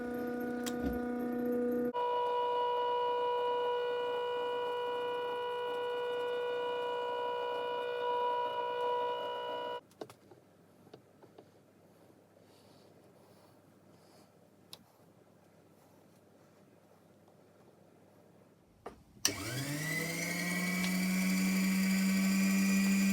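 A Cowells lathe cuts clock wheel teeth at full depth: a steady tonal motor whine runs, cuts off into a quiet stretch with faint clicks, then spins up again loud and close.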